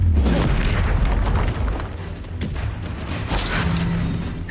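Incendio fire spell cast in the Hogwarts Legacy video game, a loud burst of fiery whooshing and booming within dense, continuous spell-combat effects that stay heavy throughout.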